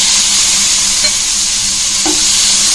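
Peeled tomatoes frying in a pan with lightly browned onion for homemade pizza sauce, a steady close sizzle with faint stirring scrapes, no voices.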